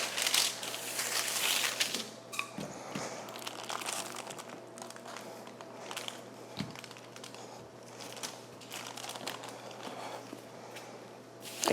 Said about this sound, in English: I'm picking up my parchment so that I'm not getting a bunch of wrinkles in it